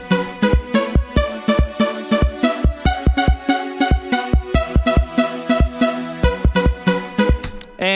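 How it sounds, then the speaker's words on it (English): Synth pad built from saw waves for a remix: bright sustained chords pulsing in a rapid, even rhythm with a punchy low thump on each beat, loud and alone. "So the pad sounds like this."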